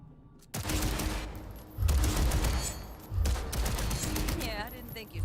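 Gunfire rings out in the Cyberpunk 2077 video game during a shooting warm-up: three loud, heavy volleys of shots, each with a booming low-end tail, fairly close.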